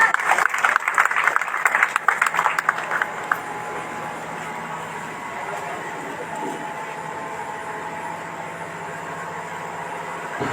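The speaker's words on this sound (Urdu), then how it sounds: "زوردار تالیوں سے ان کا استقبال کریں." Applause from a crowd at a Peace Party gathering welcoming a speaker to the stage, a loud burst of clapping for about three seconds that quickly dies away into a steady low hum.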